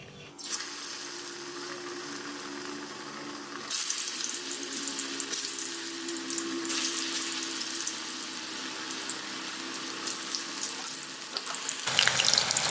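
Colocasia leaf rolls (alu vadi) fry in a pan with a dense, steady hiss of bubbling oil that swells louder partway through and stays close and continuous.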